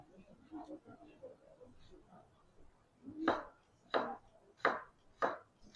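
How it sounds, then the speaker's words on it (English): Garlic cloves sliced thinly on an angle with a knife: four crisp, evenly spaced chops on a cutting board, preceded by soft speech. "This one I'm going to go and do a big garlic here, 2 cloves. I'm doing slice on the angle."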